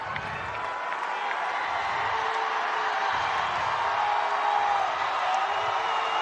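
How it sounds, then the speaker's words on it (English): Notre Dame crowd at a WIAA Division 3 state championship football game against Catholic Memorial, a dense steady roar of cheering, clapping and whoops from the stands, continuous and loud throughout with a voice faintly beneath. "Notre Dame crowd again getting into it."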